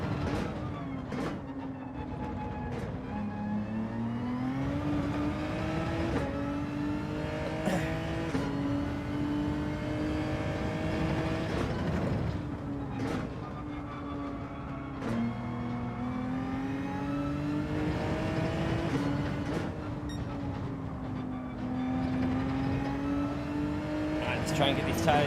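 Race car engine in Gran Turismo 7 during a lap, a steady droning roar that rises and falls through gear changes and revving, with a voice talking over it throughout.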